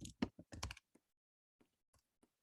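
Typing on a computer keyboard in a Google Doc: a quick burst of close key clicks, then a few sparse, faint taps trailing off.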